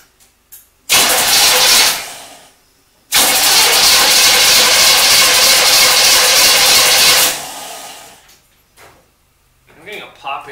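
1974 Corvette Stingray engine fitted with new spark plugs cranks over in two long, loud, close bursts separated by a brief pause, followed by quieter sounds and a voice near the end.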